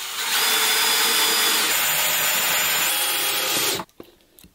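A power drill drives a 2.5-inch decking screw into wood in one loud, steady whirring burst lasting several seconds, then stops abruptly, leaving a faint clatter.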